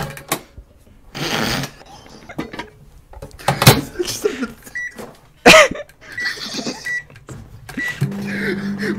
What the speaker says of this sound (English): long sound clip of a Panasonic NNE225M microwave oven